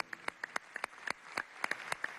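An audience at a congress of communicators applauds journalist César Solórzano, with a faint, scattered patter of individual claps heard from a distance.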